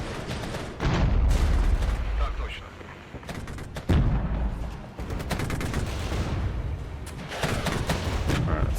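Mortar fire in the military strategy game Regiments, with heavy repeated booms and crackling artillery that rise and fall over several seconds while a voice talks over the battle.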